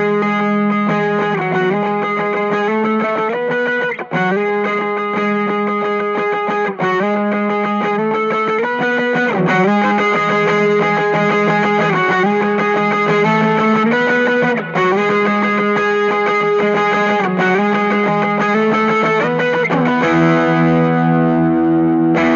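Telecaster played through a Fender Blues Jr and a Vox AC10 in stereo, with a Strymon Timeline delay adding repeats to a continuous strummed and picked rhythm, loud and close. The chords ring out into a sustained tail at the end.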